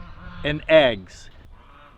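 Geese at a pond let out two loud nasal honks in quick succession, followed by fainter calls, with a voice speaking briefly over them.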